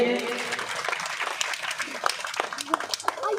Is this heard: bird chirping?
no